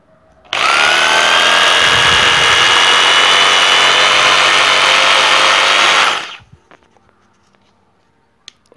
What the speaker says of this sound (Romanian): Găurire cu percuție.